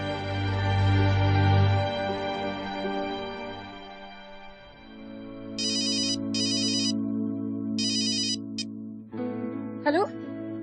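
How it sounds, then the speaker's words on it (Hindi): A mobile phone rings while calling mother, with short bursts of electronic ringtone in repeated pairs over dramatic background music, followed by a brief voice. "अपना फोन निकालो और अपनी अम्मी को फोन करो कि तुम घर वापस आ रहे हो।"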